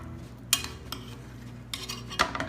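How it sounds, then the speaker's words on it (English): A utensil scrapes and clinks against a roasting pan while pushing roasted vegetables aside beside a paprika-seasoned roasted chicken, a few sharp metallic scrapes over faint sizzling, close up. "I'll move my vegetables out of the way so I can get to the juices."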